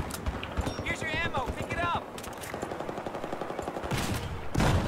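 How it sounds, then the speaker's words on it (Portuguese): Gunfire crackles in a Battlefield 4 video game, repeated rapid shots in bursts throughout, with someone talking excitedly over them. "Quem tá atirando em mim aqui"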